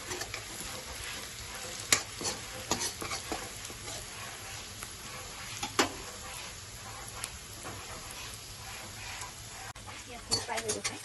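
Cumin seeds fry in hot oil for an Assamese sour fish curry with rosella leaves: a steady low sizzle runs throughout, broken by a few sharp clinks and scrapes of a utensil against the pan.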